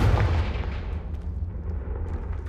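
A fire-spell blast goes off in Hogwarts Legacy, a loud, rumbling burst that hits hard at the start and then rolls on as a sustained low roar and crackle for a couple of seconds.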